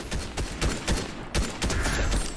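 Rapid gunfire crackles in Fortnite, a string of close, loud shots in an uneven rhythm lasting a couple of seconds with no talk.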